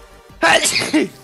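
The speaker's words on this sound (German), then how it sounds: "Wegen dem Niesen." One abrupt sneeze bursts out near the microphone during a German-language Minecraft play session, loud and breathy, preceded by a brief word from the player.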